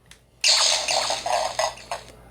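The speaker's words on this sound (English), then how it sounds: "It does a struggling to activate noise." A harsh, sputtering electronic noise from a Power Rangers morpher toy opened without its coin surges in and pulses unevenly, faltering and restarting several times as if straining to start up, with no talking.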